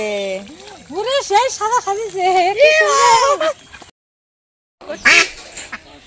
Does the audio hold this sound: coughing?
no